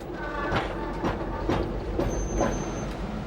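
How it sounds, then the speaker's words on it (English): A 40-ton railway carriage pushed by a shunting engine rolls slowly past in a North London railway yard, rumbling with rhythmic wheel clunks over rail joints and a faint metallic squeal. "It requires the power of a shunting engine to move 40 tons of railway carriage into position"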